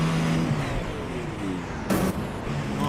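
Onboard engine sound from a race car at Indianapolis in the sim racing game iRacing, held fairly steady with shifting tonal drones as the revs rise and fall, plus a brief broadband burst near the end, with no talk.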